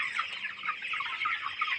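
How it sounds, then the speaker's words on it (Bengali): Chickens on a poultry farm cluck in a dense, continuous chatter of many overlapping birds, steady and fairly close, with no voices. "আমার মুরগগুলা কীভাবে ছড়িয়ে ছিটিয়ে আছে"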